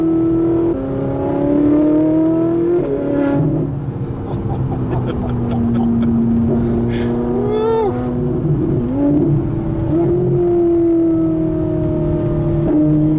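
A Ferrari 458 engine pulling at light, roughly quarter throttle, a smooth rising and falling drone heard from inside the car, steady and fairly loud with a few gear changes in the pitch.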